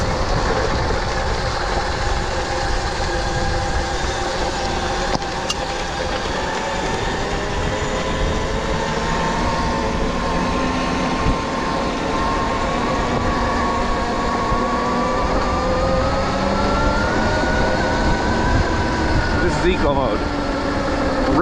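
An electric bike whines as it accelerates hard up a hill, its motor tone climbing steadily in pitch over a continuous rushing background, and a brief voice appears near the end.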